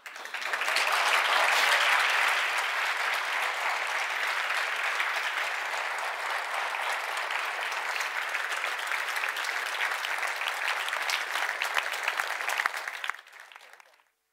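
Loud, sustained applause from a large audience fills the room for over twelve seconds, then stops abruptly, leaving a faint tail.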